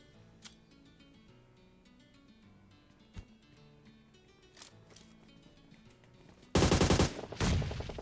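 Gunfire in the mobile battle royale game PUBG Mobile: a few faint scattered shots early on, then a loud dense burst of rapid automatic fire near the end, split by a brief pause.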